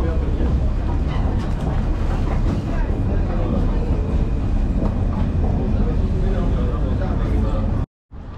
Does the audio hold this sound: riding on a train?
yes